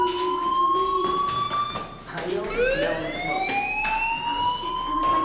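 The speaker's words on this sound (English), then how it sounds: "Hey, do you hear that fire alarm?" A fire alarm sounding in the video game Life is Strange, a loud, sustained rising and falling electronic siren tone that continues without a break.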